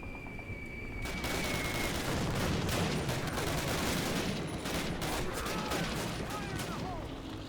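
Constant loud gunfire in the original Call of Duty, with rapid overlapping shots and explosions filling the whole stretch as a dense roar, and a voice speaking under the din.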